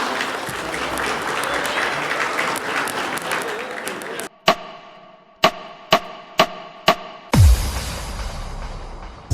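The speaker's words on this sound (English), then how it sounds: "A big round of applause from all sides, dear parents" Parents and audience at a school annual function clap in dense, lively applause for about four seconds, then the sound cuts to a few sharp, isolated knocks.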